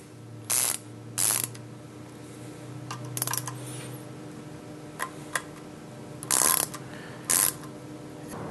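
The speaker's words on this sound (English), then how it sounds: "Now that it's level, you want to take the time to just tighten your scope down." A scope mount is tightened onto a Picatinny rail with a ratcheting tool, giving several short, crisp bursts of clicking separated by quiet pauses and faint small metallic taps, close by with no voices.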